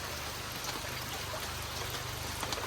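Steady rain falls over a farm among bamboo groves, a soft, even hiss of drops with no breaks and no voices.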